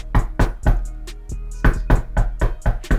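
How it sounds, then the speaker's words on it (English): Knuckles knock on a door in a quick series of about a dozen sharp, hollow raps in uneven clusters, loud and close, with no voices. "Just knocking the door."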